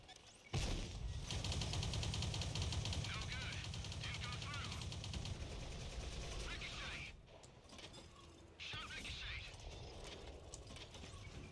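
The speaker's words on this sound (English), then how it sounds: "Just a casual drive-by machine gun" Machine gun fire from a passing drive-by in World of Tanks, rapid bursts of rattling shots over mechanical clatter and engine rumble, loud at first and then fading.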